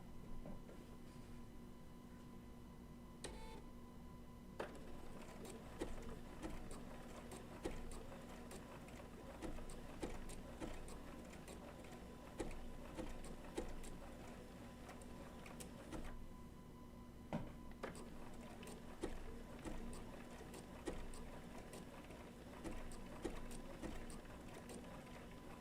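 A Bernina B790 PRO sewing machine stitches a tack-down on wool applique, a steady rapid mechanical chatter with regular clicks and brief pauses, close and moderately quiet, running alone without voices.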